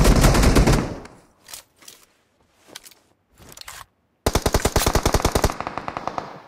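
Bursts of automatic gunfire in PUBG Mobile on the Livik map, a loud rapid stream of shots at the start, short scattered bursts in the middle, then another long sustained volley near the end, with no talk.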